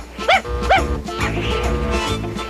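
A cartoon dog from Garfield & Friends lets out two quick, high, yelping barks close up, then gives softer whimpering sounds over busy background noise.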